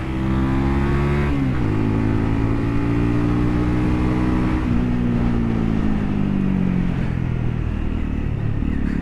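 A Honda CL 250 motorcycle engine pulls hard while riding, its loud close drone rising in pitch, dropping at a gear change and climbing again, with wind rush underneath and no voices.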